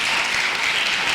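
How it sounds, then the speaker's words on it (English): Audience applause for a school choir at a high school lecture, a dense steady wash of many hands clapping, moderately loud and continuous with no talk over it. "Please give them another round of applause."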